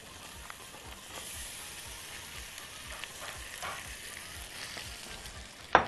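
Onions softened with spices, salt and pepper fry in a pan, giving a soft, even sizzle with faint stirring scrapes throughout and a sharp clatter at the very end.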